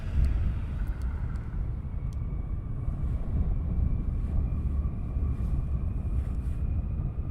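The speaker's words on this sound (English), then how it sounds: "some more taxiing down by the sound of it" Military jet taxiing at RAF Lakenheath during a morning surge launch, a steady low rumble and engine whine held at a distance throughout, with a faint high tone running underneath.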